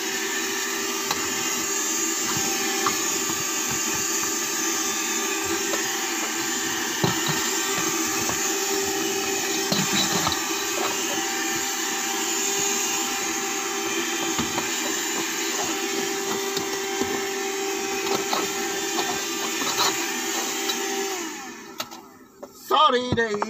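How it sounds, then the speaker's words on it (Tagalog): A vacuum cleaner runs steadily and loudly at close range as floors are cleaned during a morning routine, a continuous broadband motor drone that holds for over twenty seconds before cutting off near the end. "Mag-vacuum ako."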